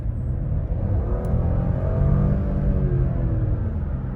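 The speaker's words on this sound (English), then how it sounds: "I love the sound of the car." Audi Q7 55 TFSI e plug-in hybrid SUV driving through a city at night, its cabin filled with a steady low engine and road rumble that rises gently midway, heard alone without talk.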